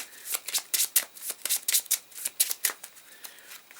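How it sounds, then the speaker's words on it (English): Rapid riffling of playing cards, a string of crisp papery bursts in quick succession, close and fairly loud with no voices. "Shuffle these."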